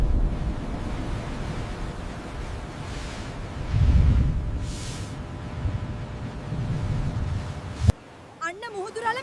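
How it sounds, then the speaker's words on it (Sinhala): Sea waves surge in toward a Sri Lankan shore, deep rolling swells and wind-buffeted rumble building and easing for several seconds before cutting off into brief, quieter sounds. "අන්න මුහුදුරල මේ පැත්තට එනවා."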